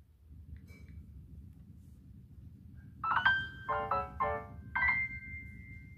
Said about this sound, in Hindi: हमें यहाँ पर मैसेज आ चुका है